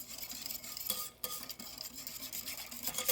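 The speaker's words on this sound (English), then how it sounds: "we're just going to give this a good stir" A spoon stirs vanilla into pudding filling for an eclair pie, making soft continuous scraping and light clinks against the bowl, fairly quiet and close, with one brief pause midway.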